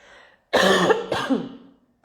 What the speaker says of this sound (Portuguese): hoje eu comecei a dar uma tossidinha aqui